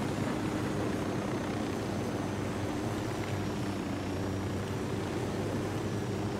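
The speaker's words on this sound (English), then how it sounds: "Not too often I get this helicopter." Helicopter flying in the video game Ghost Recon Wildlands, a steady loud rotor and engine drone with a dense roar that holds constant throughout, heard from inside or very near.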